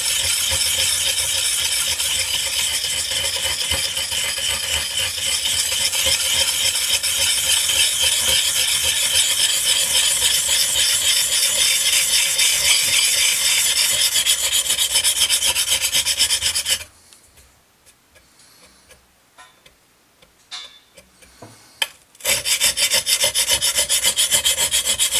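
An old drawknife blade, dulled and oxidized from working oak, is rubbed in circles on a sharpening surface, giving a steady, loud rasping scrape for about seventeen seconds, then a short near-silent pause with faint taps before the scraping resumes.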